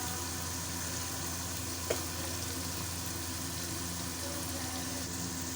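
Chopped tomatoes and red chilli powder frying in a pan, a low steady sizzle with a faint engine-like hum beneath and one brief clink, no voices.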